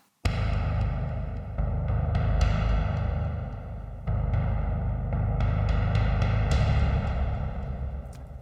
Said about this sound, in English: that timpani sounds like this